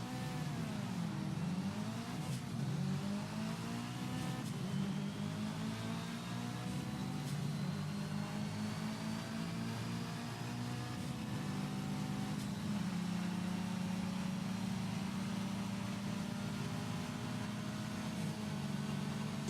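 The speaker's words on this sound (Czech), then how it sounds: "To je Mazda MX-5." A Mazda MX-5 roadster in the racing game Project Cars drones with a continuous engine hum, pitch dipping and climbing through gear changes and revs, steady and moderately loud with no talk.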